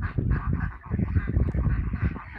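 Runner ducks honking in a noisy flock, overlapping nasal calls repeating rapidly and continuously at close range, fairly loud with no talking.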